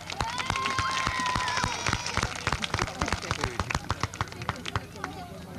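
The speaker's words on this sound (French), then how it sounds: "on les applaudit maintenant" A crowd at a 1984 town footrace through the streets of Propriano claps for the runners, with dense steady clapping under a voice over a loudspeaker.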